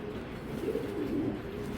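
A domestic club racer pigeon gives a low, soft coo in two gentle swells over a steady background hum.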